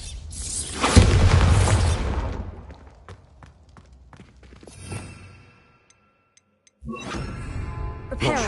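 Spell blasts from Confringo and Bombarda in the Hogwarts Legacy video game: a heavy booming burst with shattering debris, a fading rumble, a second smaller hit, then another loud crackling blast after a brief silence.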